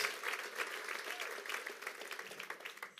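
A church congregation at a Sunday service claps hands in a dense, continuous burst of applause that stays lively for several seconds, fairly close with some faint voices mixed in.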